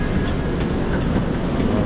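Inside the premier class cabin of a Chinese bullet train at speed, a dense steady rumble of wheels on track with a continuous low roar and faint clatter, heard close with no speech.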